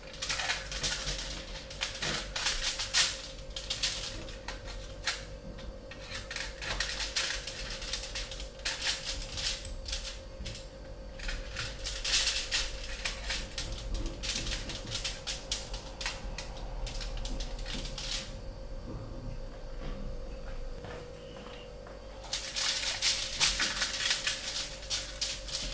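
Scissors cut out a stove top protector liner in bursts of crisp snipping and crinkling, with pauses between cuts over a constant low electrical hum.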